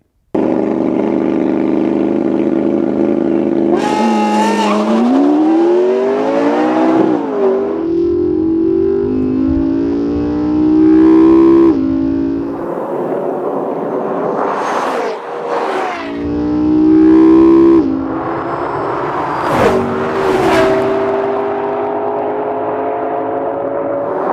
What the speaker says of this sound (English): Which one's faster through a quarter? Let's find out.